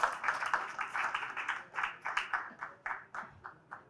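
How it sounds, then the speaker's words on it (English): A small group claps for a memento presentation at an agriculture value chain event, with soft, distinct hand claps in an uneven rhythm that thin out toward the end. "A loud round of applause."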